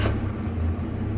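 Car engine idling on its own on a carburetor with no throttle, a steady low rumble that stays loud and close throughout, with no voices.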